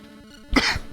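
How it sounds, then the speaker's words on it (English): One short, sharp cough, close and dry, with a throat-clearing edge, bursting out alone after a moment of near quiet. "And I'm sort of coughing."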